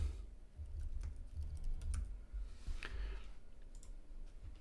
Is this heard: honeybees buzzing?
no